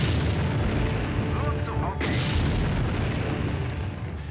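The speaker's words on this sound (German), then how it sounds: "die Explosionen sind halt so unfassbar laut" Loud, continuous rumbling explosions and booming blasts from the video game Empire Earth fill the clip, with a sharp burst near the middle and talk faintly underneath.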